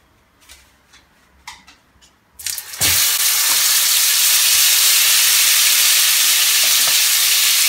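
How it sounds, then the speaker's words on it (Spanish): Sauce-soaked bread drops into hot oil in a frying pan, a few faint taps before a sudden loud, steady sizzle and hiss that continues close and unbroken. "acá ya tengo un sartén con aceite y voy a mojar mi pan, ¿sí? Bien, bien mojado con esto y lo voy a poner a freír."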